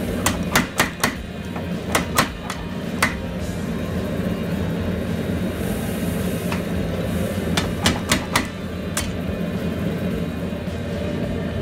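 Sharp metallic power hammer blows ring out in quick clusters over a steady mechanical rumble, forging a steel knife blade, with pauses between bursts, loud and close.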